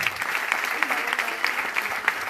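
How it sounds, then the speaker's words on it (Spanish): A crowd at a community solidarity gathering applauds steadily, a dense wash of many hands clapping at once with a few louder claps standing out, continuous throughout. "Un aplauso, por favor."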